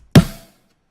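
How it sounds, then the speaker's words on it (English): One snare drum hit made from layered mouth and body sounds: a sharp, bright crack with a short decaying body, heard once and alone. "So for example, the snare sounds like this"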